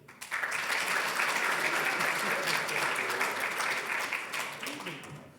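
Sustained applause from a debate audience voting for one side on AI policy, dense steady clapping from many hands that holds for several seconds before tapering off at the end.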